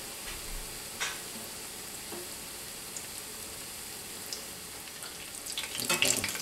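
Potato patties made with egg and flour fry in a cast iron pan, a soft steady sizzle running throughout, with light scraping and a louder crackling burst near the end.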